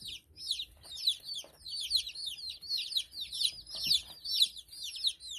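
Baby Bielefelder chicks cheep constantly in a new indoor brooder home, a dense flock of high, bright peeps in quick overlapping bursts, fairly close and steady throughout.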